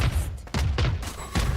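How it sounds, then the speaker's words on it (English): Rapid missile launches fire off in Valorant, a dense burst of booming, crackling blasts in quick succession, loud and close, with brief dips between volleys. "All missiles away."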